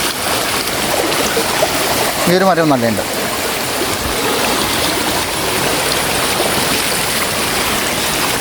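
Water rushes steadily through a stream in a broad, even wash; a voice speaks briefly over the flow partway through.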